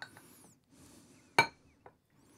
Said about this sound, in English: I like to use a metal spoon to do this because that way I can really scrape that bowl